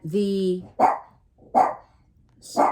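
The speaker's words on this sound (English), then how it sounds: "there's the doggies. Yes, they're here." Dogs bark close by in three sharp, separate woofs spaced about a second apart, following a short whiny tonal sound at the start.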